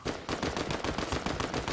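Rapid, repeated gunfire from a video game shotgun, a loud, close, continuous burst of shots in a quick, regular rhythm with no pauses.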